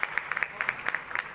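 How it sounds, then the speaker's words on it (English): Scattered hand claps from a small group at a medical conference, sparse and uneven rather than a full ovation, fairly faint. "Big round of applause for our zonal head, Dr. Purnima,"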